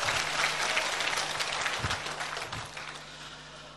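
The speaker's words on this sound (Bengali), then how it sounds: "সবাই একটা জোরে করতালি দেন।" Audience applause fills a hotel ballroom at a company product launch, a steady dense clapping from many hands that holds strong and then slowly thins toward the end, with no talking over it.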